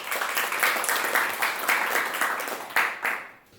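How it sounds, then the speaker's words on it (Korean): An audience applauds at a Seoul architecture kickoff forum as the president of the Seoul architects' association is welcomed to the stage; dense, steady clapping fills the hall and then tapers off near the end, with no voices heard. "무대로 모실 때 큰 박수 부탁드립니다."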